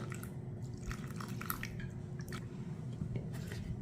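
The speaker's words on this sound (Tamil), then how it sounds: "ஃப்ளாக்ஸீடு இதில் கொஞ்சமாக லைட்டாக தண்ணி ஊற்றிக்கணும்" Water is poured lightly onto powdered roasted flaxseed, making faint, soft drips and wet squishing sounds, quiet and close.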